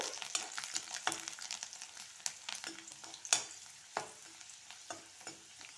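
A whole bulb of garlic fries in oil and is stirred until it browns. Soft, quiet sizzling runs beneath scattered spoon clinks and scrapes against the pan.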